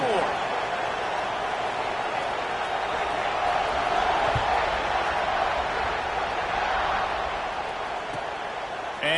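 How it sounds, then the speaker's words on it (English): Ohio State football stadium crowd buzzing, a steady dense roar of many voices filling the whole stretch, with a commentator talking over it. "this crowd is buzzing after that last score"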